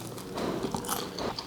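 A single crisp bite into a fried chicken samosa, with crunchy crackling pastry close to the mic and brief chewing afterward.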